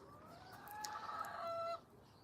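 A hen in a garden clucking and calling in a drawn-out, rising cackle, fairly faint against a quiet background, with no talking.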